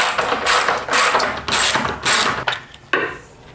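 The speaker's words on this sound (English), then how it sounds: "So you're going to need a 10mm to undo 2 bolts." A 10mm ratchet working bolts loose on a Ford Falcon BA/BF front suspension, giving a few loud, close bursts of rapid clicking with brief pauses between strokes.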